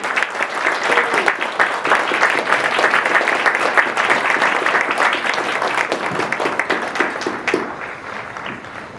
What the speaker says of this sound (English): So please join me in a well-deserved round of applause for the drill instructors of Charlie Company.